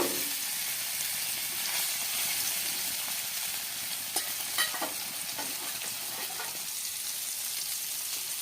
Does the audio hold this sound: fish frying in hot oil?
yes